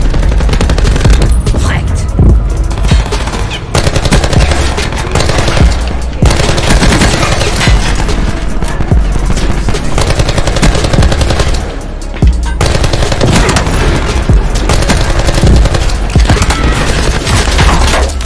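Automatic fire from the Vapr Mk2 gun in a video game, loud and continuous, with rapid bursts separated by brief pauses and a low boom under the stream of shots.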